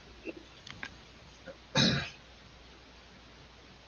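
One short, sharp cough stands out in a quiet room, with a few faint small noises before and after.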